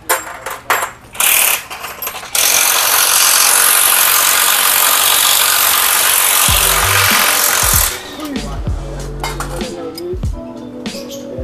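Metallic clinks and rapid ratchet wrench clicking while a Raider 150 Fi motorcycle engine is dismantled for a refresh after 50,000 km, close and loud, with a long continuous hiss in the middle section.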